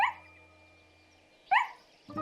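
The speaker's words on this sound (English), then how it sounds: "Just then she heard the sound of barking." A cartoon dog barks twice, short yappy woofs spaced about a second and a half apart, clear and close, with a soft click near the end.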